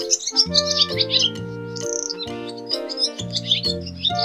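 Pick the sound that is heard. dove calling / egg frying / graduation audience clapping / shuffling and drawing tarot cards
dove calling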